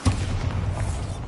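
A Bombarda spell explosion in Hogwarts Legacy, a single heavy boom with a sharp onset and a rumbling tail that fills the short moment.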